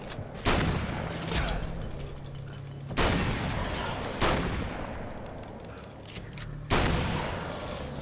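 Shotgun blasts in the video game Alan Wake's American Nightmare: four loud, sharp booms spaced a couple of seconds apart, each trailing into a rumbling decay.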